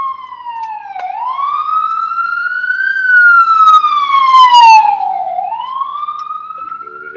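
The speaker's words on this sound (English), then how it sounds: "there's an ambulance coming our way, so might get loud for a minute." An ambulance siren wails loudly in city traffic on 34th Avenue in Astoria, Queens, New York, its pitch sweeping up and down in long slow cycles as it passes close by, with no talking.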